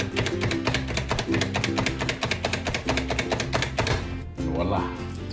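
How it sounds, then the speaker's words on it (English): A power chopper dicing garlic for Hawaiian-style garlic butter shrimp gives a fast, steady run of loud chopping taps for about four seconds, then stops and leaves a softer, rougher rattle near the end. "Power chopper, the secret weapon to chopping, dicing some garlic."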